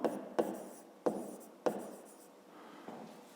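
A pen or pencil writes by hand while a fifth-grade maths exercise is worked on paper, a soft scratchy scribble with a few sharp taps as strokes begin, close and alone.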